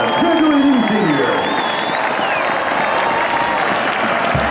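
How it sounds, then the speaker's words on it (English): A large crowd gives loud, sustained applause for graduating marching band seniors at a Veteran's Day tribute, with cheers and whistles rising over the steady clapping. "let's give a big round of applause to all of the band graduating seniors"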